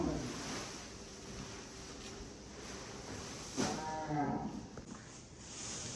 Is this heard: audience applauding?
no